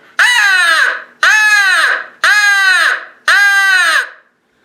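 A Primos crow call blown by mouth gives four loud, harsh caws in an even rhythm, each about a second long with short gaps, close and alone.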